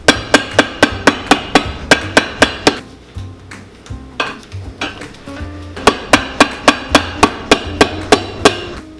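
A heavy hammer strikes heel blocks onto a Wolverine 1000 Mile boot sole during a resole, in two bursts of about ten rapid, evenly spaced, loud blows separated by quieter handling clatter.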